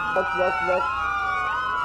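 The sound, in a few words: police car siren in a GTA roleplay video game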